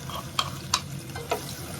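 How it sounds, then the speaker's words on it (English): Onions sauté in rosemary-infused oil in a pan over a flame. A soft, steady sizzle runs underneath while a utensil scrapes and clicks three times as it stirs. "saute these onions"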